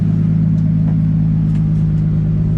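An RB25DET engine with a straight-pipe exhaust idles loud and close, a deep, steady, throbbing drone with no revving and no voices.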